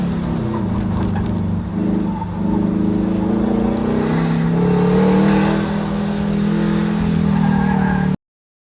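A Factory Five 818 pushed hard through an autocross hairpin, its engine droning loud and close with shifting pitch as it drifts toward the outside line, with faint tire scrub and no talking.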